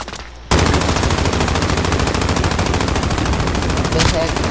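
A long, loud burst of rapid automatic gunfire in a video game starts abruptly after a brief quiet moment and hammers on steadily to the end, with faint voices underneath.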